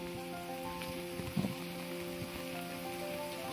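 Heavy rain pours down during a typhoon at a rural hut, a steady broadband hiss of downpour on surfaces with a brief louder knock midway, continuous and close with no talking.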